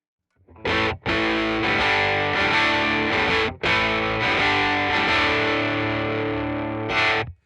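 Jazzmaster electric guitar played through a heavy distortion pedal, sustained fuzzy chords rung out in a few strums separated by brief gaps, loud and close, no voices.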